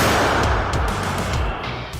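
A 2S22 Bohdana self-propelled howitzer fires with a heavy blast booming close by, followed by a long, rumbling roar that slowly fades.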